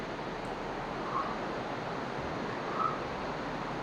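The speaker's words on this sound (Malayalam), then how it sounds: "ആ പാറ ഇടയിലൂടെ എല്ലാം വെള്ളം ഇങ്ങനെ ഒലിച്ചു വരുന്നതാണ്" Water trickles and rushes steadily between rocks at Erattinpuram in Thiruvananthapuram, a continuous soft broadband wash with no voices.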